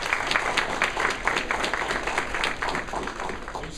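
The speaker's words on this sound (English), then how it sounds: "Let's have a round of applause for Elsie." An audience at a youth appreciation and recognition event claps for a student athlete, with dense, brisk applause holding steady throughout.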